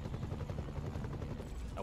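Helicopter in the Iron Man video game, a steady low rotor thrum mixed with rapid gunfire bursts and explosions throughout, loud and continuous with no talk.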